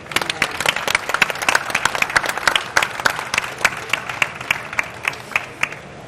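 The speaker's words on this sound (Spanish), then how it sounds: "Así que un aplauso para toda la organización, por favor." Audience applause for the organizers of a live science event in Valencia, a dense, loud, steady clapping from a large crowd that carries on throughout.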